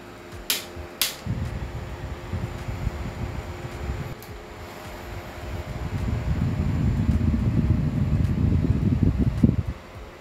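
A Snow Peak Field Fan, a portable camping fan, runs close by with a steady low whooshing airflow that swells louder in the second half, broken by a few faint clicks.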